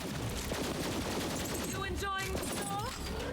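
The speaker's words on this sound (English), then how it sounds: "The shooting from here works for me." Borderlands 3 shooting is a steady, dense clatter of rapid gunfire that never lets up, mixed with game effects and a voice talking throughout.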